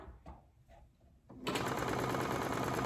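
A Brother Essence VM5200 sewing machine starts up and runs a steady zigzag stitch at a fast, even rhythm, loud and close, after a few soft handling clicks and knocks.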